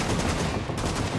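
Dense, loud gunfire in a video game during an attempted trick shot, a continuous rattling burst of close shots filling the whole moment with no talk over it.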